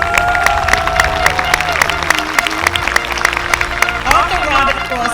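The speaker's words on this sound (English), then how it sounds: "Give yourselves a round of applause again." Graduating high school class of 2023 applauding and cheering in a large hall, loud sharp claps and crowd noise with sustained tonal voices over the applause.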